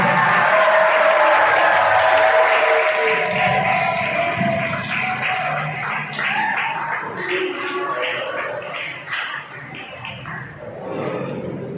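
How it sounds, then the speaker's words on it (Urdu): Audience applause at a farewell ceremony for Mehr Safdar Hussain Lak, a dense crowd clapping loudly for several seconds with voices mixed in, then thinning out toward the end. "اب تالیاں زیادہ بات کریں"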